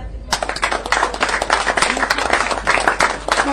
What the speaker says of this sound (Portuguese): Aplausos para ele Espinho.